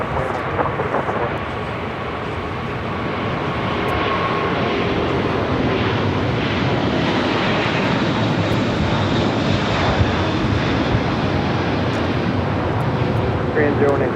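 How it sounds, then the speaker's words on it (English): Korean Air Airbus A380 departing Los Angeles International Airport on a flight to Seoul, a steady loud broadband engine roar holding throughout at close range, with faint talk mixed in underneath. "This is Korean Air Flight 18 taking off to Seoul on the A380."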